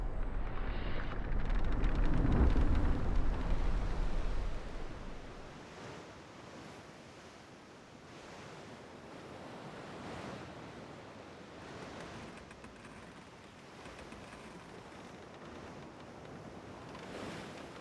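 Ocean waves wash and roll steadily while sailing at sea in the naval game World of Sea Battle, a loud low surge at first easing into a softer continuous wash with wind, no talk.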